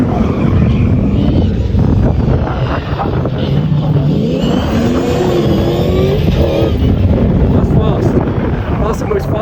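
A Group B rally car at the Race Retro circuit, engine roaring loud and close as it races past, pitch rising and falling through gear changes under constant heavy noise.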